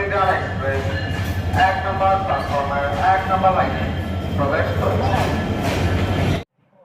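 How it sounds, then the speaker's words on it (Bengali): Train rumbling at platform one of a railway station on the Dhaka to Kurigram route, a steady low rolling drone with clanking and crowd noise, voices talking throughout, cutting off abruptly at the end. "আমি দাঁড়িয়ে আছি এক নম্বর প্ল্যাটফর্মে অর্থাৎ এই রেল স্টেশনে"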